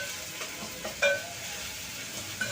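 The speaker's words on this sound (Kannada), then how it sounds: "ಈಗ ಶುಂಠಿ ಬೆಳ್ಳುಳ್ಳಿ ಪೇಸ್ಟ್ ಹಾಕಿಬಿಟ್ಟು ಸ್ವಲ್ಪ ಹಸಿ ವಾಸನೆ ಹೋಗೋಷ್ಟು ಮಿಕ್ಸ್ ಮಾಡಿದ್ರೆ ಸಾಕು" Ginger garlic paste stirred and fried with onions in a pan, a soft steady sizzle with light scraping strokes and a couple of faint utensil clinks, no voices.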